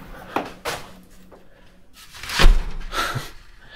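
An old wooden door in an abandoned house swings shut, giving a few soft knocks and a firmer thump of wood meeting the frame, close by and with no talk over it.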